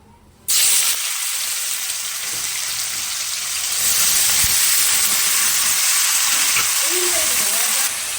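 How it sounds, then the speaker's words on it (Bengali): Bitter gourd and potato slipped into hot oil, a sudden loud hissing sizzle that starts abruptly and continues steadily, with a few light clinks of a utensil. "তেলটা গরম হয়ে গেছে, এবার আমি আস্তে আস্তে এই উচ্ছে আলুটা দিয়ে দেবো।"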